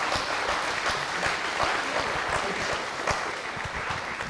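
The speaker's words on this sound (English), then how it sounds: "Go ahead, give us an applause." Audience applause at a town election forum, steady, dense clapping from a room full of people that holds at an even level throughout, with no voices over it.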